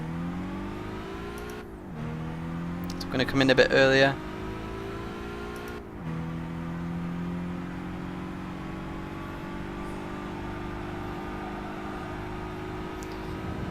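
A race car engine in Gran Turismo 5 hums at steady revs, with a brief surge and rev spike in the middle, while someone speaks over it.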